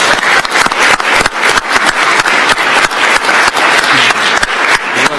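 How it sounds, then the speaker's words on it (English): Loud, dense applause from the audience at a Board of County Commissioners meeting, many hands clapping in a continuous close wash with crisp individual claps, steady for several seconds and no speech. "Let's give them a big round of applause"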